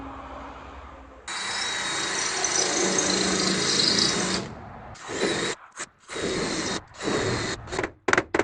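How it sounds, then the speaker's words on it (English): A power drill with a spot weld cutter bites into the sheet metal of a rolled-over Toyota Tacoma, whining steadily at first, then cutting in and out in short bursts, close and fairly loud. "Spot weld cutter. Make sure you don't drill all the way through."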